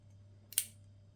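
A single crisp metallic snap of the scissors on a custom Victorinox 58mm Swiss Army knife clicking shut sounds close by against a quiet low hum.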